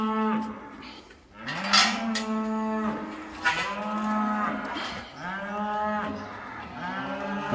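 Cows and calves being let back out to field moo repeatedly and close by, long drawn-out bellows overlapping one another in a steady chorus.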